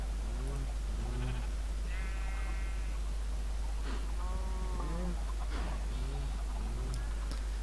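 Minecraft sheep bleat repeatedly in short wavering calls, with a few clucking sounds mixed in, over a steady low hum.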